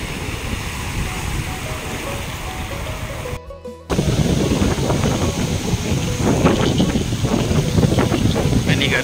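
Strong wind buffets the microphone on Cha-am beach in Phetchaburi, Thailand, a loud continuous roar that drops out briefly near four seconds and then resumes harder, with surf and the rumble of jet skis beneath it.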